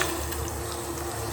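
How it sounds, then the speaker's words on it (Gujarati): Seeds tipped into a pot of boiling water in a home kitchen, a brief, steady, dense bubbling and rushing of water, close and fairly loud, with no talking. "અત્યારે આપણું પાણી ઉકળી ગયું છે ને એમાં આપણે બીને એડ કરી દઈશું"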